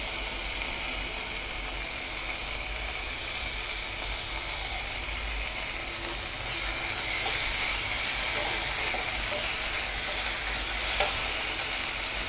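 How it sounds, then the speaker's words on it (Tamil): Onions sauté in a pan with ginger garlic paste, a constant loud hissing sizzle with faint stirring and steam, growing slightly louder about halfway through. "இப்போ நம்ம இஞ்சி பூண்டு பேஸ்ட் சேர்த்துக்கலாம்."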